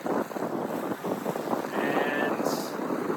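Strong wind buffets the microphone over rushing water and waves aboard a single-handed sailboat on the Atlantic, a steady loud roar throughout with a faint high whine partway through.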